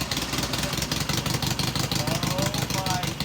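An abandoned dune buggy engine runs briefly after being cranked over, a steady rough mid-pitched idle that holds throughout, with people talking over it.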